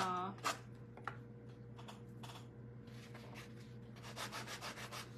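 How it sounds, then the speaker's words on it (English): Small sander working paint off a wooden shadow box piece, steady abrasive rubbing hiss over a constant motor hum, with short scraping strokes, close up. "I'm just kind of gonna sand some of it off"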